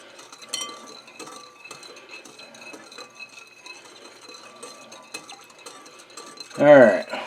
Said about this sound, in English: I'll whisk all that together